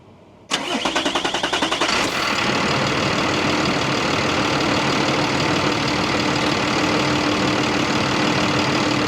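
A Mack truck's Cummins B 6.7 diesel cranks over with a rapid starter chatter for about a second and a half, catches, then settles into a loud, steady idle close by, with no talking.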